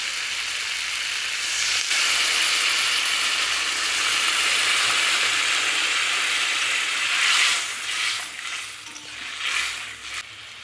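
A pan of fish curry with green tomato coming to a boil after water is added: a steady, dense hiss of bubbling and sizzling, with a few louder spurts and stirring noises toward the end.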